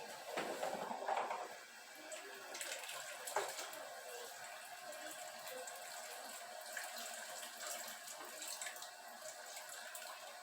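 A glass jar of homemade tomato sauce is lowered into a water-filled canner, splashing and sloshing at first, then settling into a steady watery wash that runs on at moderate level.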